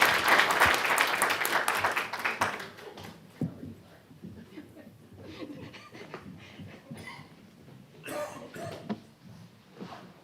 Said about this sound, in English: Big round of applause, please, for Riley